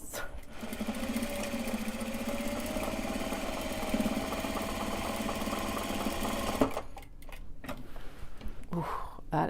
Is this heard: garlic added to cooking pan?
no